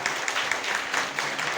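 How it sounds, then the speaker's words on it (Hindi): An audience claps loudly and steadily for their guru at a gathering, a dense, continuous patter of many hands, close and even, with no voices over it. "तो एक बार जोरदार तालियां अपने गुरु जी के लिए।"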